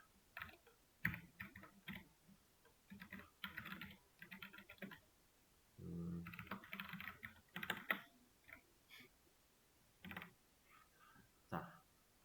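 Java code is typed on a computer keyboard in quiet, uneven bursts of soft key clicks separated by short pauses, with no talking.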